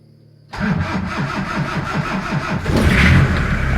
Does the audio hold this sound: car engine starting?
yes